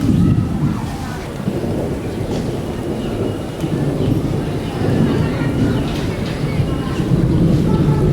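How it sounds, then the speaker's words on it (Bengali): Thunder rumbles low and continuously from dark storm clouds gathering before a rainstorm, with wind buffeting the microphone and someone talking over the steady roar. "বৃষ্টি চমকাচ্ছে মেঘ ডাকতেছে সেই রকম ঝড় বৃষ্টি চলে আসবে মনে হচ্ছে"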